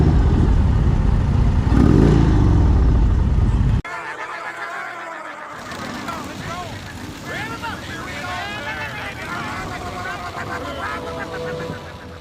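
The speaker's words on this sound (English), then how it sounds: "It's got that nice grumble when you twist the throttle" An Indian motorcycle's air-cooled V-twin grumbles loudly as the throttle is twisted for a few seconds, then cuts off abruptly and someone talks over quieter background noise.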